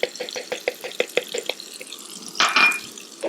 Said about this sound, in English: I'm going to put that in a cup of hot water, whisk it together really, really fast